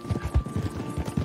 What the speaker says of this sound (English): Why's your horse following us?